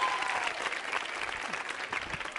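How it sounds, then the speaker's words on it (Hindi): Clapping from an audience at a college quiz show on Rajasthani culture, a broad steady patter of many hands that fades slightly toward the end, with faint voices underneath. "तालियां जोरों से बजाइए इनके लिए"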